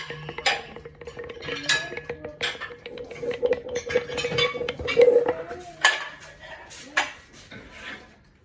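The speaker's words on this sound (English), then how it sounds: "So I usually mix it with a chopstick." A chopstick scrapes and clinks steadily around a bowl as bread dough is mixed, close and fairly loud, with scattered sharper taps against the bowl's side.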